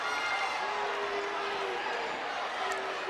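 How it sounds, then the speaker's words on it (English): Loud basketball crowd roaring inside Devil Dog Arena during a Magnolia versus Morrilton game, a dense continuous wash of cheering and chatter with a faint sustained whistle tone partway through. "Crowd here, as you can probably hear, very loud"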